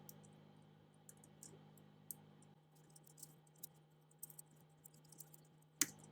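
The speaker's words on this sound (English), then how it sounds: "I'm using my keyboard and I'm just hitting the down button" Computer keyboard key presses click quietly at an irregular pace over a low background hum, each tap faint and brief.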